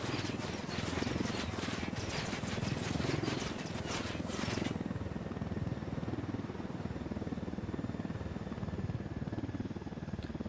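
Helicopter in the video game Ghost Recon Wildlands, a steady loud rotor and engine drone that runs throughout, with a rapid chopping texture in the first half before settling into a smoother hum.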